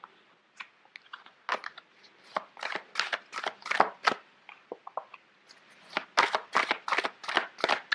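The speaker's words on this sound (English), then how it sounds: "It's hard to shuffle." Large oversized tarot cards shuffled by hand, a run of crisp riffling and slapping bursts in quick irregular clusters, close and fairly loud, with no talking.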